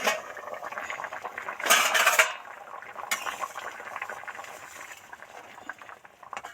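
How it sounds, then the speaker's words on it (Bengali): A pot of Sundarbans mustard crab curry with taro simmers, soft bubbling and gurgling at close range, with a brief louder burst of clattering as the lid or pot is handled midway and a sharp clink after. "ভিতরে তো টুকবুক টুকবুক করে ফুটছে আর দারুণ একটা ফ্লেভার"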